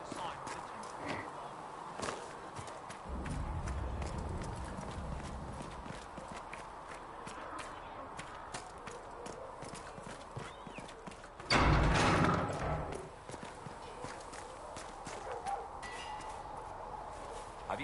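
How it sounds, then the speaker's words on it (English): Horses in the Dragon Age: Inquisition video game, hooves clip-clopping steadily throughout with occasional neighs and a louder burst partway through, amid background game sounds. "Have you seen the horses Master Denon sent the Inquisition?"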